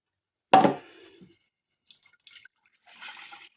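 Liquid poured from an old jug lands with a sharp splash, followed by two short, quieter trickles in an otherwise silent room.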